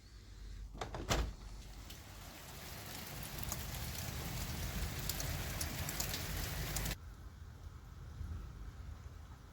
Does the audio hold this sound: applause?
no